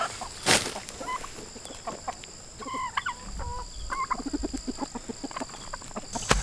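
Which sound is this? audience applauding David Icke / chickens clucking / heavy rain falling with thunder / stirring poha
chickens clucking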